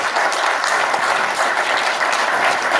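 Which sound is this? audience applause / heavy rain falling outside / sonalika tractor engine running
audience applause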